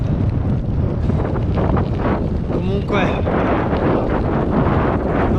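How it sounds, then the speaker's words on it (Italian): Wind buffeting a microphone while cycling the Alpe Adria cycle path near Grado and Fossalon in Friuli Venezia Giulia, a loud, continuous low rumble that fills the whole stretch under someone speaking. "Ovvio poi che deve esserci il vento"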